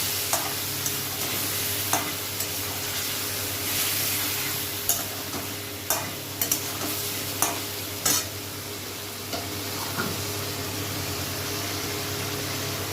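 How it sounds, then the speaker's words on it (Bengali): Spices sautéing in a frying pan alongside a fish, potato and eggplant curry base, with steady close sizzling and repeated sharp stirring scrapes and taps of a spatula at regular intervals. "এবারে আমি মশলাটা দিয়ে দিচ্ছি দিয়ে এটাকে সুন্দরভাবে কষিয়ে নেবো"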